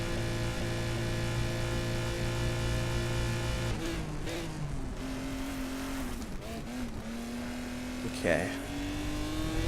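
A race car engine in the video game Race Driver: GRiD drones and shifts pitch as it revs and changes gear, with brief tire noise, while someone talks over it.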